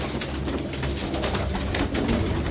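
Pigeons coo steadily and close by in a loft, their low throaty calls repeating over a constant bed of bird noise with no talk.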